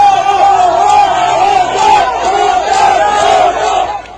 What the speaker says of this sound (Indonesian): terlihat kerumunan massa di depan pintu masuk Padepokan yang berteriak lantang